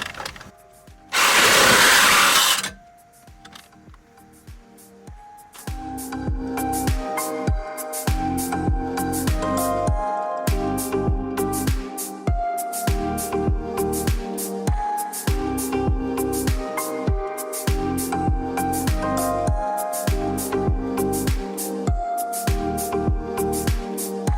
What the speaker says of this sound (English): I'm bringing out the Sawzall.